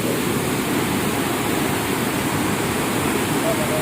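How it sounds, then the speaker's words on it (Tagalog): Floodwater of the Tonlob River rushing hard in a steady, loud, dense roar that fills the whole moment without letup, close and continuous. "So dili mi kalabang kay kusog kayong baha."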